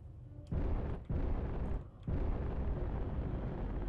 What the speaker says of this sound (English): Ooh, Reiko's taking torpedoes.